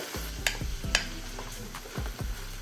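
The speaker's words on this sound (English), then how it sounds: "Go in with our onion. Cook it up a little." Onions sizzling and being stirred in a pan while cooking pancit bihon, with steady frying crackle and several distinct scraping stirs of a utensil against the pan.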